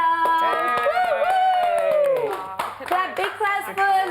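A group of children clap together indoors, a burst of quick overlapping hand claps with excited shouts and cheers, while an adult voice and sung or drawn-out vocal sounds ring over the top.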